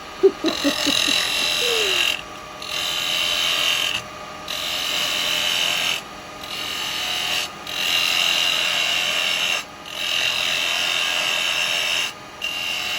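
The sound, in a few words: wood lathe turning a firewood bowl with carbide chisel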